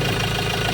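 A Ford Ranger engine runs at idle with a steady low rumble and faint knocking texture, close and continuous for a brief moment.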